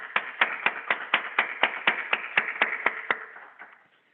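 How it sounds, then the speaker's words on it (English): A graduation audience for a fellowship ceremony claps in a fairly even, rhythmic round. The claps are distinct and moderately loud, then thin out and fade near the end, with no talking over them. "could you give a round of applause for the Solomons"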